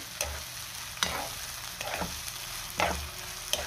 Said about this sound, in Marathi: आता आपल्याला ह्यामध्ये टोमॅटो घालायचा आहे आणि टोमॅटो सुद्धा 2 ते 3 मिनिटं चांगला मी परतून घेणार आहे।